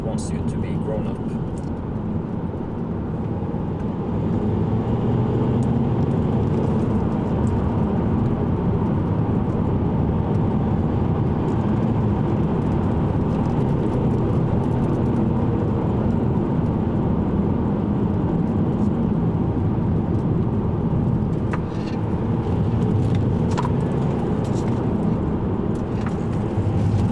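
A Volvo C30 cornering on Nokian Hakka Black 3 tires, heard from inside as a steady loud road and engine roar with continuous tire rumble.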